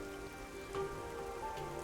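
Soft rain patters in the video game Master Detective Archives: Rain Code, a faint, steady wash beneath sustained tonal game music.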